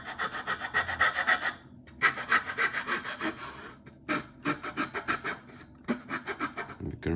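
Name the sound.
sanding the wooden deck of a Fram model ship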